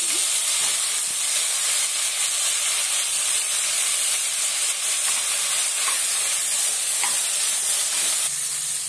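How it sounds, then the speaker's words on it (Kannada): Potato and brinjal pieces frying in hot oil in a pan, a continuous close hissing sizzle with occasional stirring clicks, no talk. "ಚೆನ್ನಾಗಿ ಎಣ್ಣೆಯಲ್ಲಿ ಒಂದು 2 ನಿಮಿಷ ಹುರ್ಕೊಳ್ಳೋಣ"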